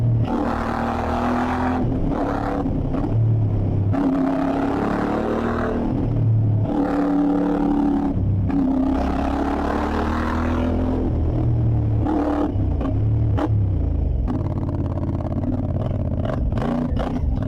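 A CFMOTO 450MT motorcycle on a test ride, its engine revving repeatedly through rising and falling pulls, loud and close, with a steady rumbling throb between accelerations and no talk.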